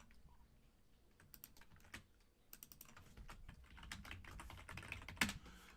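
Typing on a computer keyboard during a live design exercise, quiet at first and then building into quick, uneven bursts of close keystrokes with a few louder clacks near the end. No one speaks.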